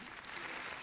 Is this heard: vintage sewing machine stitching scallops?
no